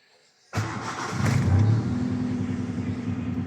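A Honda Civic engine cranks and catches after a silent start, then settles into a steady close idle with a brief rev swell, all without any talk.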